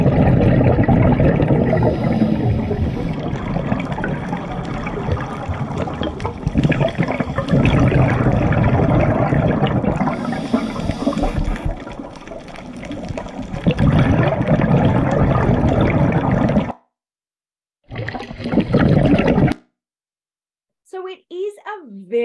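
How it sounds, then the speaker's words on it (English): A scuba diver breathes through a regulator underwater, making loud continuous rushing and bubbling that fills most of the clip, then cuts out into brief silences with a short burst of bubbles near the end. "it's that bubbling. So we're breathing in through that regulator, and as we breathe out, bubbles are coming out."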